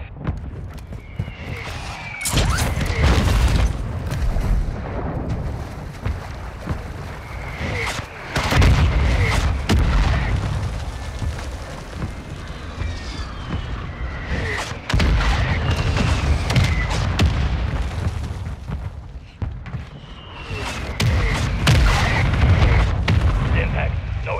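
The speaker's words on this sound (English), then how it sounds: "Mortar strike inbound." Mortar strike explosions in Call of Duty Modern Warfare II, a series of heavy booms and blasts in irregular bursts, loud and close, layered with gunfire and other battle noise, with game voices heard.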